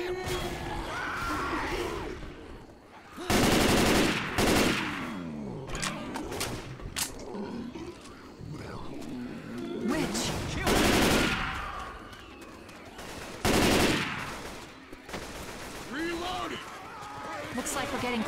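Rifle fire from Left 4 Dead 2 comes in loud, sharp bursts separated by quieter stretches, mixed with other game effects and in-game character voices.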